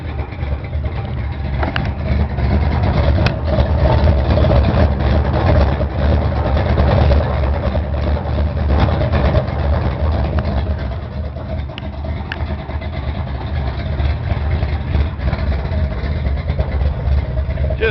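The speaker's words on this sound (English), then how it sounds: "You can hear that exhaust pipe hitting down there." A truck idles with a steady low rumble, and a loose exhaust pipe knocks faintly and irregularly underneath; a voice speaks briefly in the background.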